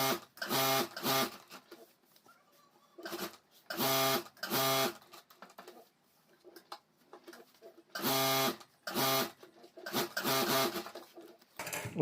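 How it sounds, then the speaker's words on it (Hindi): Sewing machine stitching fabric onto a rubber sheet for a homemade school bag, loud rapid mechanical chattering in repeated bursts of a second or two, close up, with brief quieter gaps between runs. "और अब यहाँ चारों तरफ हमें सिलाई कर देनी है।"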